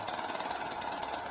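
Argon ions ejected from a plasma tube make a fast, even rattling ratchet that pulses rapidly and continuously. The sound is bright and buzzy, fairly loud, and no voice is heard over it.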